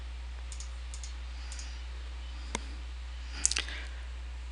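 Mouse clicks on tiles in RPGenius TileMapper software come as a few sharp, close, isolated clicks, with a quick cluster of several near the end, over a faint steady hum.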